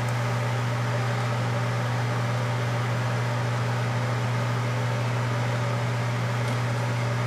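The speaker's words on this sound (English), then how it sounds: "We're going to melt the white chocolate in the microwave until it's completely melted." A microwave oven runs with a steady, loud hum and fan whir while melting white chocolate with vegetable shortening, unchanging throughout.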